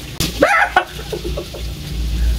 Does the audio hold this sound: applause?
no